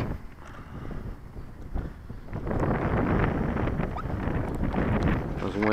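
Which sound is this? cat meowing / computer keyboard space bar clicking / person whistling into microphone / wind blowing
wind blowing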